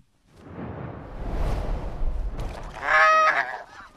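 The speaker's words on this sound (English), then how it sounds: "They may be snow geese, but they don't seem to be at home on the ice." Snow geese honking on ice, a burst of nasal honks near the end over a low rumbling wash of flock noise and wind, fairly loud and close.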